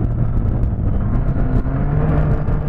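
Car accelerating hard, a loud continuous engine roar with a rising tone close to the microphone, no voices over it.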